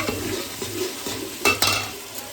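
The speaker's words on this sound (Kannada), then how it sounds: "ಇವಾಗ ಅರ್ಶಿನ ಪುಡಿ ಹಾಕ್ತವ್ರೆ. ಇವಾಗ ರೋಸ್ಟ್ ಮಾಡಬೇಕು ಸ್ವಲ್ಪ" Turmeric powder and spices roasting in a pan for biryani, a soft sizzle under repeated scraping stirs at a steady rhythm, with a couple of sharper utensil clacks near the middle.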